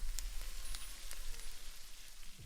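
Soft, steady sizzling with faint crackles and pops as batter fries in a waffle iron, continuous and fairly quiet.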